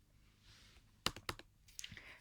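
A short burst of clicky keystrokes on a computer keyboard while writing C++ code, a few quick taps close by after a quiet start, with no talking.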